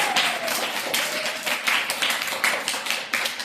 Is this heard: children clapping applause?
yes